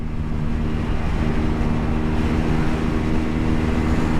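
A Honda CL 250 motorcycle accelerating in fourth gear makes a loud, steady engine drone with a low harmonic hum. Rushing wind noise runs all the way through.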